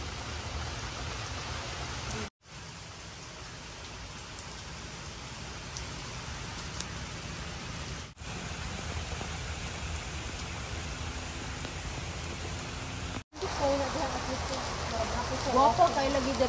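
Heavy rain pours down in a steady, dense hiss of drops, interrupted by brief cuts, with a voice speaking over it toward the end.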